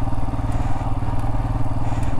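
A Himalayan motorcycle grinds over a rocky canyon Jeep trail with boulders and sand, its engine a loud, continuous throaty rumble up close, with faint clatter and thumps from the rough ground.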